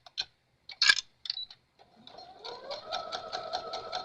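After a few light clicks and taps, a sewing machine starts up and stitches fabric scraps together, its needle thumping in a quick, even rhythm at moderate, close volume.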